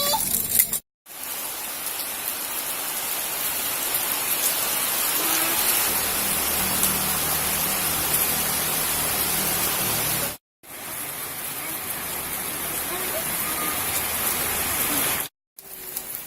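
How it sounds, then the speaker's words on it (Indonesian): Steady, dense rain pouring down at Helena Sky Bridge in Bantimurung, Maros, Indonesia, a continuous hiss filling the scene, briefly cut off twice before resuming. "Baru juga kita naik sebentar, sudah turun lagi hujan"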